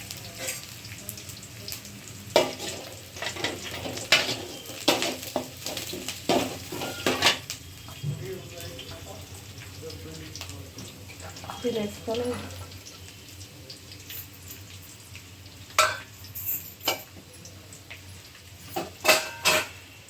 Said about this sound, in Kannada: ಈರುಳ್ಳಿ ಹಾಕಿ ಕರಿಬೇವು ಸೊಪ್ಪು ಹಾಕಿ ಚೆನ್ನಾಗಿ ಫ್ರೈ ಮಾಡಿ